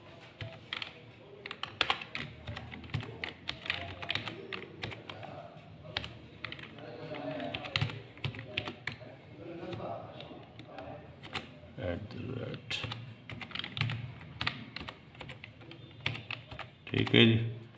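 Rapid keystrokes clatter on a computer keyboard as a recovery email address is entered, bursts of close typing with short pauses while someone talks over it.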